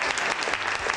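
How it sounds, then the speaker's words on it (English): A studio audience claps steadily for a guest on a St. Louis morning show, dense and close, with no talking over it. "Give him a round of applause"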